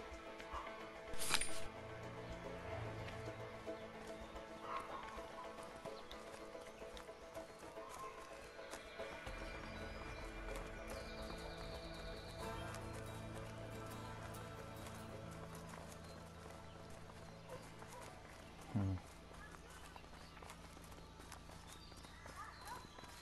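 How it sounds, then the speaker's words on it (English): Horses running in the video game A Way Out, steady hoofbeats under quiet in-game music and effects, with a couple of sharp brief impacts. "Let's just hope these horses keep running."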